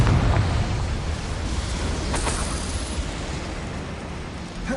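A Confringo fire spell explodes in the Hogwarts Legacy video game: a loud, rumbling blast that starts with a heavy boom and fades into a long crackling roar.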